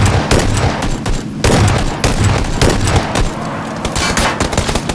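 Sustained, loud automatic gunfire in the video game PUBG, overlapping bursts and booming shots rattling continuously and close throughout, with no voices.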